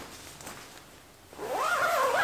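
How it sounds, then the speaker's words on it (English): Quiet rustling, then a quick zipper pulled along a fabric track near the end as a tent window is zipped shut, close and clear. "the window zips up"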